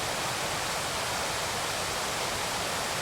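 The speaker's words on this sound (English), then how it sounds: "A lot of waterfalls," Steady rushing water fills the air, a constant broadband roar of small waterfalls close by in the Cairngorms in winter, with no other sounds.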